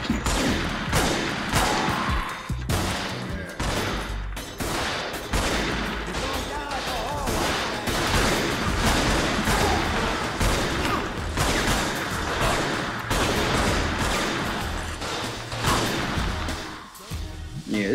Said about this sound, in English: this shotgun take too long to shoot